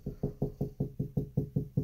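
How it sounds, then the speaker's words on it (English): Knuckles rap on a closet wall to locate a stud, about nine evenly spaced hollow knocks in a steady rhythm, close and clear with no talking. "you can find out by knocking or using a stud finder. Hear how it gets higher pitch right near this pencil line?"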